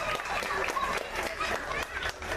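Applause breaks out among guests after a church engagement blessing, a dense wash of clapping with crowd murmur and some talk underneath, held steady at moderate level throughout.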